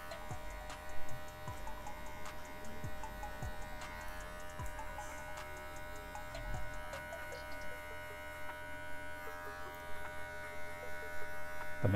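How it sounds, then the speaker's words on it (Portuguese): Electric hair clippers buzz steadily at close range as the corner of the blade trims and shapes hair for a razor part, with faint clicks and small shifts in tone as the clipper moves. "Aqui agora a gente está usando só a quina da maquininha."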